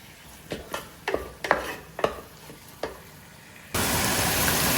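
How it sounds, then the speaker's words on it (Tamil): Salted onion and tomato sautéing in a pan: about seven distinct spoon scrapes and taps against the pan, then a sudden, steady, loud sizzle that continues to the end. "பாருங்கள் உள்ளி தக்காளி எல்லாம் வதங்கிட்டே இருக்குது"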